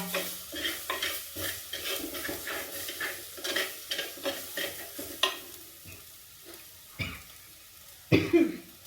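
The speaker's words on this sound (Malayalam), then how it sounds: "ചുമ വരുന്നു ഇതിൻ്റെ വന്നിട്ട്" A few sudden coughs break out from someone breathing in spice fumes while frying with curry leaves, over steady rhythmic stirring and a soft sizzle in a pan.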